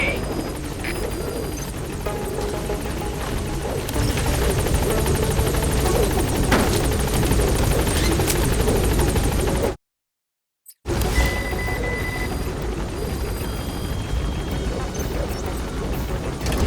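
Helicopter touching down at a landing zone in Metal Gear Solid V: The Phantom Pain, a loud continuous rotor roar with a short dropout midway, then the engine resuming steadily.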